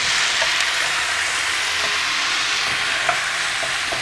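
Beef and onion sauté in a pan for beef stroganoff, giving a steady, close, dense sizzle with a few soft clicks of stirring and no talking.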